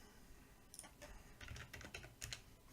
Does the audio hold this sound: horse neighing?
no